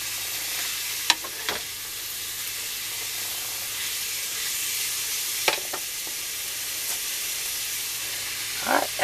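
Cabbage fries in a hot pan with a steady, close hissing sizzle throughout, punctuated by a few brief clicks and scrapes of stirring.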